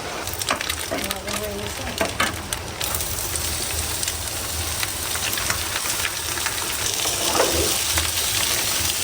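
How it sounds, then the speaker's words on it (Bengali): Dense, steady rain pouring nearby with a constant hiss, a few knocks and faint voices early on, then unbroken downpour. "আবারও বৃষ্টি চলে এসছে"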